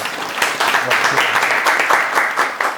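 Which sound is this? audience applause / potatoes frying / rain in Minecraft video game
audience applause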